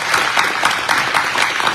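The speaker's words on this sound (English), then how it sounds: "Let's give all of these candidates a big round of applause." An audience at a candidate forum in a Baptist church claps steadily, a dense and even round of applause that lasts a couple of seconds with no voices over it.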